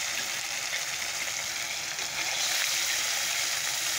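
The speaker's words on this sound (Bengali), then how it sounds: "মাছগুলোকে ভেজে নিচ্ছি।" Fish pieces frying in a pan of oil, a dense continuous close sizzle that swells slightly louder partway through and holds steady.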